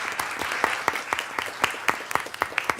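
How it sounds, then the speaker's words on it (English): Audience applause at a school board meeting honoring a guest, a dense burst of many hands clapping with sharp individual claps standing out, steady and fairly loud throughout. "y'all give a big applause"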